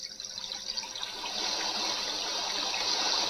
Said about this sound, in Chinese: 溪流声